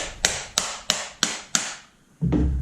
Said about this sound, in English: And you're going to hammer this in.